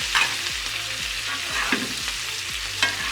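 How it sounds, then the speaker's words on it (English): Beef fillet steaks sizzle in a pan of melted butter with garlic and thyme, a constant close frying hiss broken by regular spoon taps and clinks as the butter is basted over them, with no talk. "And then we shall start to baste our steaks."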